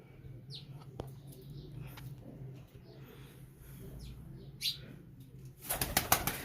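Royal teddy pigeons in a loft. A steady low cooing runs through the clip, a few faint chirps sound early on, and a close burst of flapping wings comes near the end.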